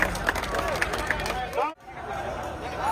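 Crowd at an outdoor political rally in Bangladesh, where a mock hanging of Sheikh Hasina is staged, claps and murmurs in a dense, continuous wash of applause and chatter, with voices talking over it before a brief dropout.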